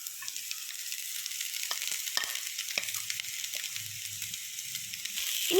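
Crushed boiled chicken for cutlets is stirred into a mixture in a hot pan, giving a low, steady sizzle with occasional scraping knocks of a spoon, growing slightly louder at the end.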